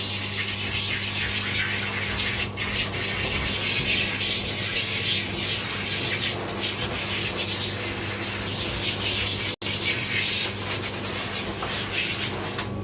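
A dog in a grooming salon being rinsed of whitening shampoo with a water spray, making a steady, close hiss that runs nearly unbroken for about thirteen seconds.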